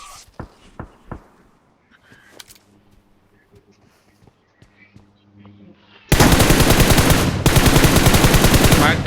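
Gunfire in a shooter video game: soft clicks and footstep-like taps give way to a sudden, loud, sustained burst of automatic fire that keeps hammering with only a brief break.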